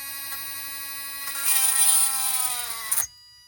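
A small electric drill boring a bead whirs steadily, rising in pitch and loudness before abruptly cutting off, leaving silence.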